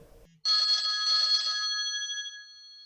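In an audio drama, a telephone bell rings loud and clear in one sustained burst that fades out, following a brief low sound at the start.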